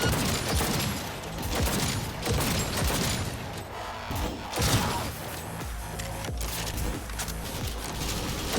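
Automated turrets firing in Cyberpunk 2077, rapid dense bursts of gunfire filling the whole stretch, loud and close with brief dips between volleys.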